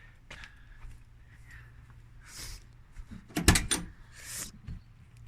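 A 1981 notchback car door is opened, heard as a close metallic latch click and clunk with some rustling and handling noise around it, fairly quiet overall.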